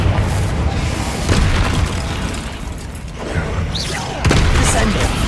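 Spell explosions from the game Hogwarts Legacy, a booming blast with a sharp burst near the start and another strong hit late, under continuous game noise and bursts of a speaking voice.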